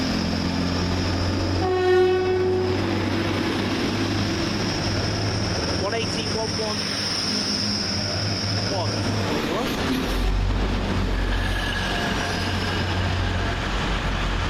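A train rumbles past steadily for the full length at Doncaster station, with a low engine drone, a brief horn-like tone early on and faint rail squeal, some talk mixed in.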